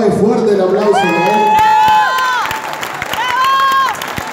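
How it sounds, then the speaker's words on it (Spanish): An audience at a cumbia show in Rosario's City Center cheers and applauds a pianist, with loud shouted whoops and whistles riding over steady clapping and a voice calling out near the start. "Fuerte el aplauso. ¡Bravo!"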